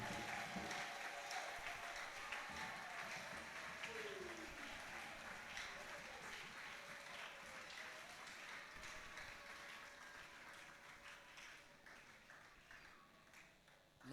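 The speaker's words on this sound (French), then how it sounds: "Acclame très fort pour le Seigneur Jésus-Christ." A church congregation at a Sunday service applauding and cheering, a faint, sustained wash of clapping and crowd noise that slowly tapers off, with a voice heard briefly within it.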